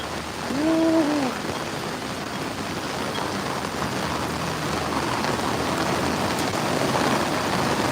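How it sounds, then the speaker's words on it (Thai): Steady, dense rain hiss fills the whole clip, loud and continuous, with a brief tonal whine near the start. "ฝนกระหน่ำซ้ำสองวันซ้อนนะครับ"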